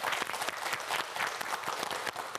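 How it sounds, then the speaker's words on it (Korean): Steady, dense applause from a studio audience at a televised student quiz show, many hands clapping at once in a close, even roar that holds for the full couple of seconds. "다시 한번 박수 보내주세요"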